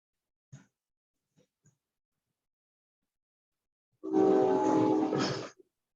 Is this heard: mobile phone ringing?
no